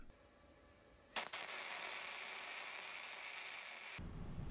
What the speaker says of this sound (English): I picked up this cheap flux core welder